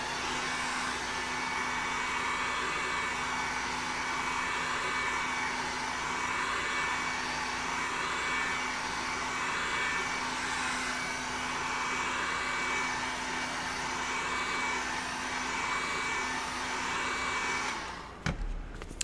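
A heat gun blows hot air over foam being shaped for a Colonial Marine helmet, a steady loud whooshing drone with a constant whine that runs unbroken for nearly twenty seconds before cutting off with a clunk.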